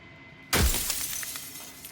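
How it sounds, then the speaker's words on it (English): Glass shatters in a video game: a sudden loud crash of breaking glass followed by a bright, scattering tinkle of shards that fades gradually, with no voices. "I hate that glass shattering noise"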